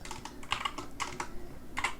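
Rapid keystrokes on a small 60% computer keyboard, typed in short close bursts with brief pauses between, crisp and clicky, with no talking.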